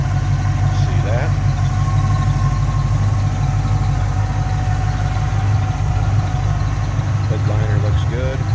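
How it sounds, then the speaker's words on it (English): A 1981 Chevrolet Camaro Z28 V8 with HEI ignition idles steadily and smoothly nearby, a constant low rumble throughout, with brief faint noises over it. "HEI ignition. Smooth run V8."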